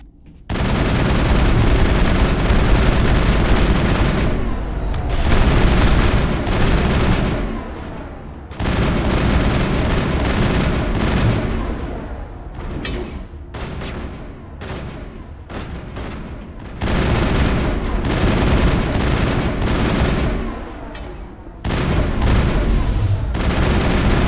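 Sustained rapid gunfire and booming shots in the video game Mass Effect, dense continuous bursts that carry on for most of the clip with a few brief lulls, loud and close.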